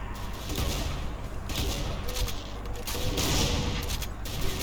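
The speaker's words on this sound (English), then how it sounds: "the primary fire on this fires both barrels" Super shotgun from a Doom game firing both barrels, heard as dense, loud overlapping gunfire blasts that run continuously through the whole stretch with no pauses.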